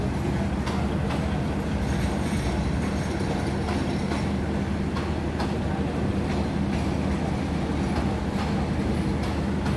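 A Thai-built passenger train on a test run rumbles steadily along the rails into Bangkok's Hua Lamphong station in heavy rain, wheels clicking rhythmically over the track joints, loud and continuous throughout.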